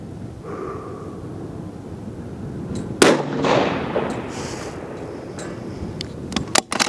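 A single sharp 6GT rifle shot cracks loudly and rings out briefly, aimed at a large steel plate downrange. Quiet outdoor ambience follows, with a few faint clicks near the end.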